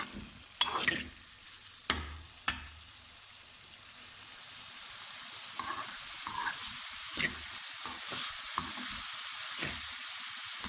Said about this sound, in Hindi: गोभी को दम लग चुका है। अब इसको तेज़ आंच में हल्की सी फ्राई करूँगी।